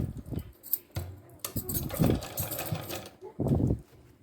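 A sewing machine runs in short bursts while stitching a design seam down the middle of a pant, its motor whirring loudly near the mic with brief pauses between runs and faint rattling.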